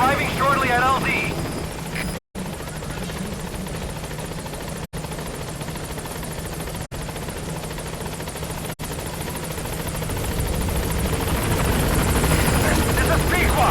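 Pequod, a military transport helicopter in Metal Gear Solid V, arriving at a landing zone: a steady, loud rotor roar fills the whole stretch, swelling toward the end, with brief cutouts and radio voices over it.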